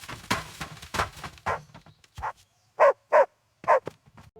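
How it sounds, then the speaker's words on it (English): A small brown-and-white puppy, lost and cold, gives a run of quick barks and yips, first in a rapid cluster and then three louder separate yaps after a brief pause, close and clear. "A dog?"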